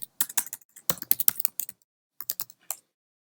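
Rapid typing on a computer keyboard while saving a web page file, heard as close, crisp clicking keystrokes in several quick bursts with short pauses between them, no talking.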